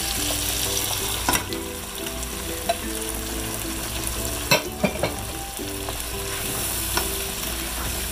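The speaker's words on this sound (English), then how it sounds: "And then we put in our marinated pork." Marinated pork frying in a pan for pork caldereta, a dense close sizzle running throughout, broken by a few sharp clinks and scrapes from stirring.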